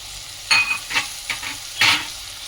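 Vegetables with peas and carrot being stirred in a pan for a Bhogi mixed vegetable dish: four distinct scraping strokes with a light sizzle, close and fairly loud, no talking.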